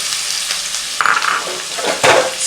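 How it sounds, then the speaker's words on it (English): Onion frying with chili flakes in a pan, a steady loud sizzle broken by scraping stirs and a couple of sharper utensil knocks against the pan. "Start stirring onion well."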